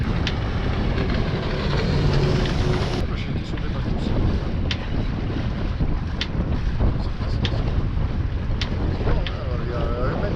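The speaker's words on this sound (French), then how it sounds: "on devrait marcher à 4 nœuds et demi sur le mer plat descendant" A sailboat motoring at 2000 rpm on flat water, its engine drone steady and loud beneath strong wind buffeting the microphone, with water rushing along the hull throughout.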